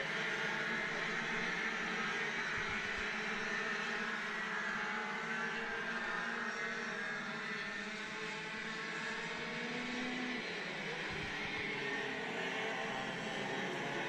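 Pro KA3 senior racing karts run laps on an outdoor track during a heat, engines droning continuously with a steady high-pitched buzz and slight pitch shifts as they pass, loud and unbroken, no voices heard.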